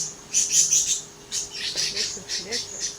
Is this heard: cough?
no